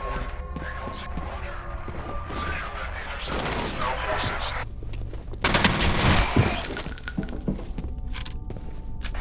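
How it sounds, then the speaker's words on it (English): Rapid gunfire bursts from the video game F.E.A.R., with dense automatic shots and clattering effects over a steady background. "He just started shooting."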